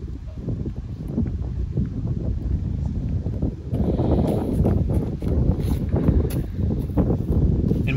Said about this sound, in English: And we do have wind right to left here.